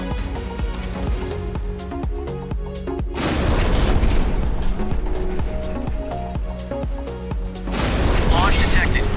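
Deep booming torpedo detonations strike a warship's hull in a naval combat game, two heavy blasts with broadband crash and rumble against a continuous engine and music bed, game voice callouts in between.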